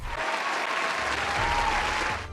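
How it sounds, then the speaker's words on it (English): Steady applause from a studio audience on a comedic talk show, a full dense wash of clapping held for a couple of seconds before tapering slightly at the end. "let us give a round of applause to Winston Smith"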